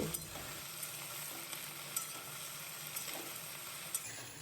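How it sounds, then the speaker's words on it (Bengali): Okra frying in a wok with salt and turmeric, a soft, even sizzle with light stirring taps and occasional sharper clicks, fairly quiet and close, no one speaking. "একটু লবণ আর হলুদ গুঁড়ো দিয়ে আমি ভালো করে ঢ্যাঁড়সগুলোকে একটু ভেজে নেব"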